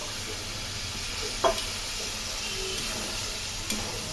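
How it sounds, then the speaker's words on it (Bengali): Drumstick flowers and leaves frying in a pan with green chillies and a splash of water, giving a steady close sizzle and hiss with a couple of brief stirring knocks. "এখন অল্প জল দিয়ে এগুলো আমি ভেজে নিচ্ছি"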